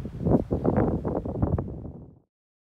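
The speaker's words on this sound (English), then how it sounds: "Sorry for the wind." Gusty outdoor wind buffets the microphone at a battlefield site, a loud low rumble with uneven pulses lasting about two seconds before cutting to silence.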